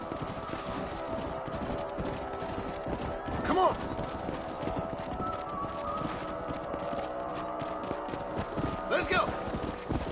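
Horses' hooves clip-clopping in the Western video game Red Dead Redemption, faint and steady under a man's spoken lines, with a couple of brief louder sounds partway through.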